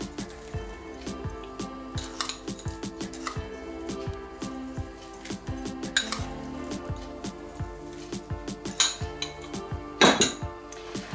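Chopped vegetables being mixed with salt in a bowl for cabbage-stuffed peppers, with a spoon clinking and scraping against the dish in a steady, uneven rhythm and soft squishing underneath.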